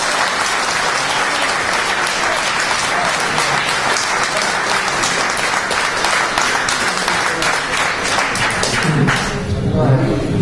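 An audience at a public meeting on biogas in Potenza Picena breaks into sustained, dense applause, loud and continuous for several seconds, with a few voices mixed in near the end.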